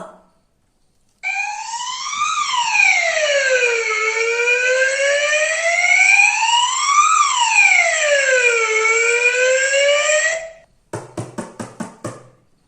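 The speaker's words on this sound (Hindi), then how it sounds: "सायरन की आवाज" A loud wailing siren rises and falls in long sweeps for several seconds, then stops, followed by a quick burst of rapid pulsing tones.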